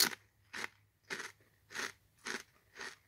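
Lay's Kettle Cooked New York Style Pizza flavored potato chips being bitten and chewed close up, six loud separate crunches at a steady rhythm about every half second, with quiet gaps between.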